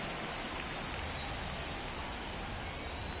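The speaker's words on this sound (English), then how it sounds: "This rain is not letting up." Steady rain in the baseball video game MLB The Show 23, a constant hissing downpour at a fairly low level with no let-up and no voices over it.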